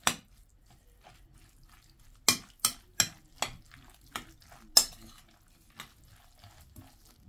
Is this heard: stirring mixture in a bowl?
yes